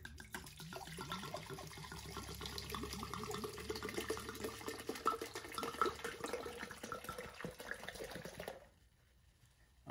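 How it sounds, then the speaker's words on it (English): Wine glugs and splashes steadily as a full bottle is poured out for sangria, a continuous trickling stream that stops abruptly near the end, leaving near silence. "So you're going to pour the full bottle."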